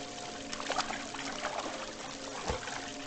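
Water pours and trickles from a fountain in a hidden object puzzle game, a steady splashing stream with a few brighter splashes, fairly close and alone.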